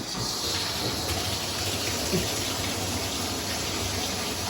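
Water pours steadily from a waterfall-style faucet into a bathroom sink, a continuous close rushing hiss with no break, no speech and an even level throughout.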